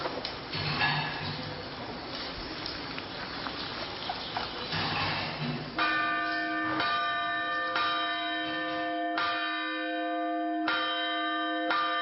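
Monastery church bells call to evening service in Bulgaria, a faint rumble of ambience giving way to loud, ringing peals with long, shimmering overtones that strike repeatedly and hang in the air, with no voices.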